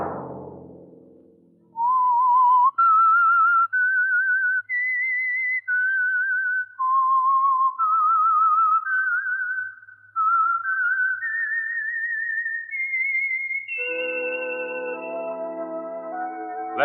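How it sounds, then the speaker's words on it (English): A lone, clear whistled theme tune for the radio program The Whistler, a slow rising and falling melody of sustained notes that climbs to a high finish before orchestral music enters. "Let that whistle be your signal each Sunday for the Signal Oil program, The Whistler."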